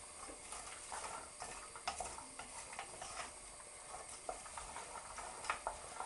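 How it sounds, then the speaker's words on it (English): Vegetables for a vegetable broth are sautéed and stirred in oil, giving a faint, continuous sizzle dotted with light scraping and ticking taps from the spoon against the pan. "I'm giving the vegetables a good old stir just to coat them in the oil"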